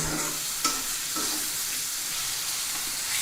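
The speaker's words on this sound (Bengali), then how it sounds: "এখন এই মশলাটা আমি একটু নেড়ে চেড়ে নেব" A paste of coriander powder, dried chilli powder and garlic is stirred as it fries in oil. There is a steady, loud, close sizzle with scraping strokes of the spoon and one sharp clink near the start.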